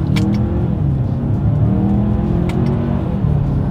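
A 2022 Hyundai Santa Fe SUV accelerating in first gear while paddle shifters are tested, a loud steady engine drone with rising harmonic whine close to the listener and faint clicks near the start and middle.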